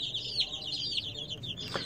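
Month-old Aseel chicken chicks peep and cluck in a rapid, continuous chatter. The sound is faint and close, with no talk over it.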